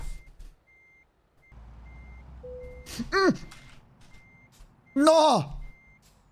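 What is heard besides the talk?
truck reversing beeps while reverse parking, from a video game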